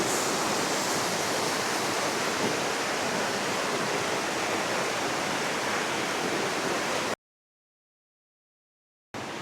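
Fast water rushes past near the bridge on the Kundamala river near Pune, a dense, even roar that is close and loud, continuing unbroken before cutting off into silence.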